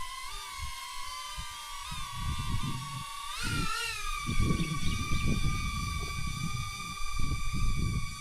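A camera drone flies high overhead near a beach, its thin steady buzzing whine holding at several pitches and wavering slightly, with gusty wind rumble underneath.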